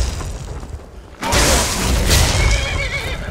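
In The Elder Scrolls V: Skyrim, after a quiet moment, a loud horse whinny bursts out with a harsh blast-like onset, ringing on for a couple of seconds.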